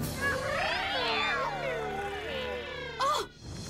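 Cartoon cats in the Cat Kingdom, a wandering castle of felines, meow in a long, wavering, overlapping chorus, loud and close, with one sharp higher cry near the end.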